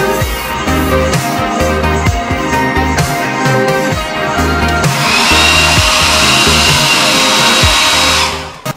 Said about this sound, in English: I'll be setting the paint with the blow dryer between coats